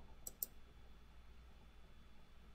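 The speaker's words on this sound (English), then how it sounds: "So I'm gonna click OK." Two sharp mouse clicks close together near the start, crisp and close, then only quiet room hiss with no talking.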